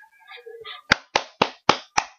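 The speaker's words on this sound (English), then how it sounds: "Applause." Audience at a speech by Manal al Sharif clapping: five sharp, evenly spaced hand claps ring out close and loud after a few faint tonal sounds.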